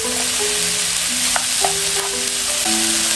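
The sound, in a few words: beef being stir-fried in a pan with onion and garlic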